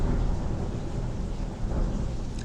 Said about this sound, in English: Stormy.